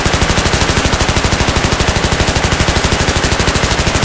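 Automatic gunfire in Battlefield 3 rattles continuously in a fast, even stream of loud, close shots with no pauses from start to finish.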